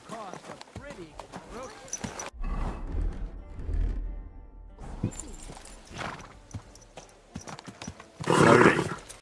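A horse in Kingdom Come Deliverance 2 makes clip-clopping hooves and a whinny, with a loud snort near the end, mixed under a voice.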